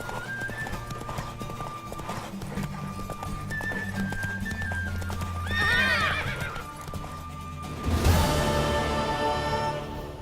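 Rapid hoofbeats of a galloping horse in the video game The Witcher 3, with a neigh partway through, amid music and ambient noise, ending in a louder burst of action.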